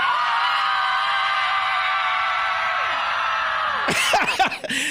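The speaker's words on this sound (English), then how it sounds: "So I give you, Andrew, this brief frustration of moms screaming" A crowd of about fifty moms on a sports field screams together in one sustained, loud, shrill chorus, then breaks off into scattered yells and laughter near the end.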